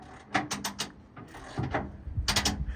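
Manual cranking of the exhaust mechanism on a Centurion ARV armoured recovery vehicle with starting issues: rapid bursts of ratcheting clicks in uneven runs, with a pause mid-way and a dull thump, close by.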